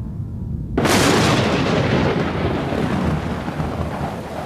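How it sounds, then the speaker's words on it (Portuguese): A sudden loud thunderclap cracks open over steady heavy rain pouring onto rocky ground, its deep rumble rolling on and slowly fading while the downpour keeps hissing throughout. "Raios coruscavam, trovões ribombavam. A chuva desabou sobre a superfície rochosa"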